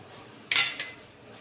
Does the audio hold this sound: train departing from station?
no